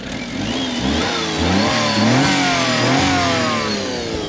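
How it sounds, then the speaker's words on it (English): A small Daihatsu Move kei car engine revs up and down while parked, a loud, close, buzzing rise and fall in pitch that hovers above idle throughout. "Give it a quick rev."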